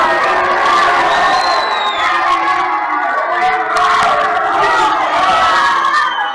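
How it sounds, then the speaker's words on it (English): A wrestling crowd at a ladder match boos and chants in unison against one wrestler, a loud, dense wall of massed voices with rhythmic shouted chanting that carries on throughout. "Gotta love you a good Jeff Paul sucks chant."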